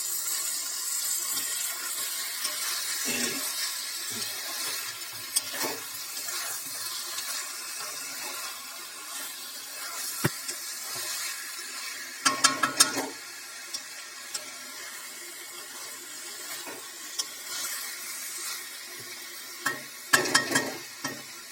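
Mutton curry with potatoes sizzles in a pan while being stirred and sautéed, a soft steady frying hiss broken by scraping stirs and a few sharp clattering bursts, with no talk.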